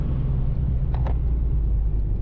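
A car engine idles with a low, steady rumble, smooth and even throughout, with a brief faint squeak partway through.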